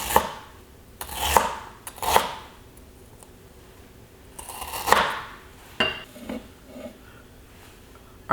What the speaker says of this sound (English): ginger is so hard, you do need to give it like a rough chop